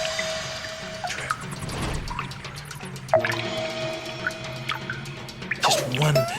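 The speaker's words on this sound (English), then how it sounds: "Just one little drip at a time, one little drip at a time." Echoing drips of water in a cave land in an uneven series, some close and resonant, others fainter, over a low background hum with possible voices.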